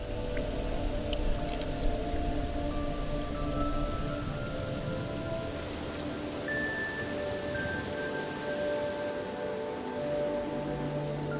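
Steady rain falling in the Maasai Mara, a continuous wash of drops on surfaces with a low rumbling undertone, even and unbroken throughout.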